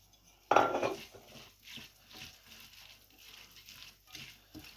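Chopped medium tomatoes get mixed into an onion salad in a bowl, opening with a loud clatter of utensil against dish, then softer repeated scraping and tossing sounds at close range.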